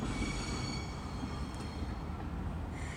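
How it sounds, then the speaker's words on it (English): A train rumbles steadily past in Austin, heavy low roar with faint metallic whine from the wheels, continuous throughout. "The trains are so loud."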